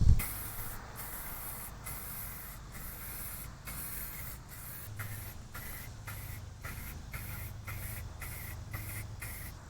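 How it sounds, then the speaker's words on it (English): An aerosol can of chrome spray paint hisses in a run of short, regular bursts, each spray a brief crisp blast separated by quick pauses, close and fairly quiet. "So now I'm going to go ahead and shoot them with some chrome spray paint."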